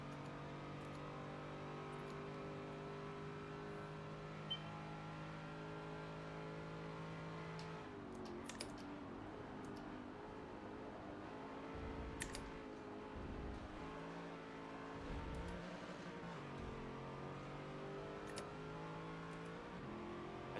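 Racing video game car engines drone and rev steadily throughout, their pitch rising and dropping with gear shifts, and a few quick throttle blips come in the second half, with no talking.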